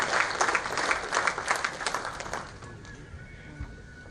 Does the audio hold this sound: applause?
yes